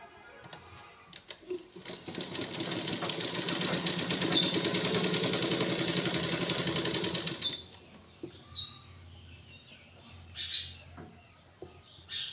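A sewing machine stitches a hem on folded cotton cloth in a tailoring lesson, a close mechanical whirring run of a few seconds that builds and then stops, framed by short bursts and faint clicks.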